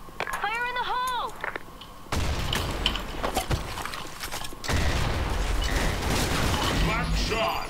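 In a shooter video game, a voice calls out first, then a heavy grenade blast booms. Rapid bursts of gunfire and further booms follow, loud and dense, continuing to the end.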